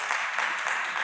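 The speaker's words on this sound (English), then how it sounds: "our procedural bylaw doesn't allow for clapping" An audience breaks into applause at a town council meeting, a brief burst of dense, steady clapping from a room full of people.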